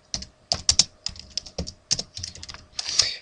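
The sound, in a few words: typing on a computer keyboard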